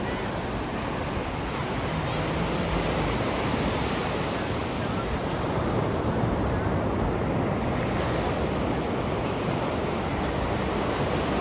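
Ocean surf rolls continuously onto the beach at Puri during a crowded sunrise, a loud, unbroken wash of waves mixed with wind buffeting the microphone.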